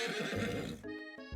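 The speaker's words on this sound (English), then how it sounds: "Colonel Sanders' horse is truly a beautiful thing." Colonel Sanders' horse in a video game gives a single loud, clear neigh, a bright whinny that rises and then breaks into a brief fluttering tail, with no talk over it.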